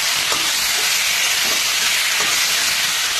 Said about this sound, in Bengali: তেলের সাথে চিকেনটাকে একটু ভাজা করবো